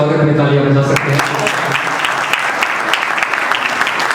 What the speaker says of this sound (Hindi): एक बार पुनः मेरे स्वागत में तालियां बजा सकते हैं